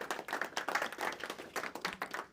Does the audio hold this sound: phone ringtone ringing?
no